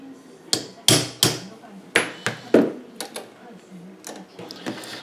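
A hammer gives gentle taps to a Dinky toy axle held in a vice, about a dozen sharp metallic knocks in an uneven rhythm, close and clear, with a voice speaking softly between them.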